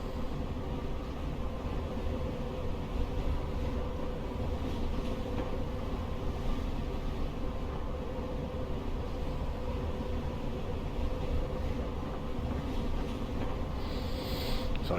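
Steady rumble and rail noise of a Class 442 electric train in Train Simulator Classic, running at speed on the fast lines through several stations toward Waterloo, continuous and even with no talking.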